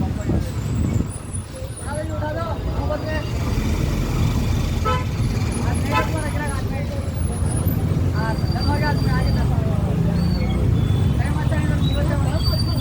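Car horns honk repeatedly in a traffic jam, heard from inside a slow-moving bus passing through a vegetable market, with steady engine and road rumble underneath and people talking throughout.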